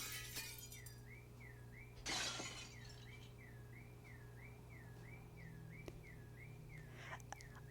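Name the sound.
car window glass shattering in the video game Since November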